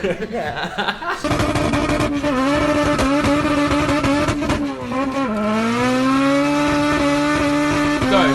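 A B18-powered Honda EG Civic track car revs hard through a gear change, its engine note climbing, dropping and climbing again, loud and close, with brief chatter at the start.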